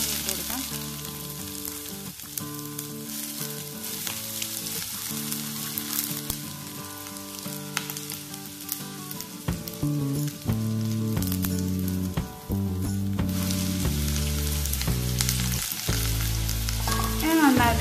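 Sliced onion and green chilli sizzle in oil with popped mustard seeds for a drumstick-leaf egg thoran, a steady close frying crackle under background music.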